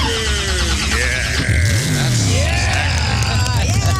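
A voice imitates a car engine starting and revving, with rising and falling pitched rumbles over a roomy broadcast background that stays loud throughout.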